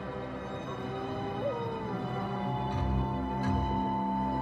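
Dog howling sound effect with long, wavering, mournful howls held over a steady low drone, fairly loud and continuous, rising slightly toward the end.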